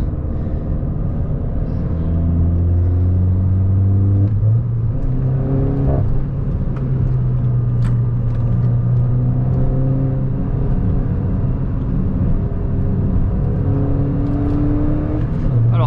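A Peugeot 208 GTI engine drones steadily from inside the cabin while driving, with rising and falling tones as the revs change through the gears, loud and continuous without speech.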